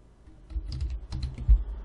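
Keys clatter on a computer keyboard as a Linux terminal command is typed to edit a Raspberry Pi configuration file, a short close burst of irregular taps.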